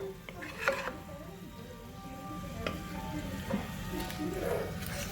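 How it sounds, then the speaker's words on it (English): Beef in red chile stew with bay leaves and cumin is mixed in a pot, giving soft scraping and stirring strokes over a low simmering sizzle, close up and moderately quiet, with a few light clinks of the utensil. "Mix this all together."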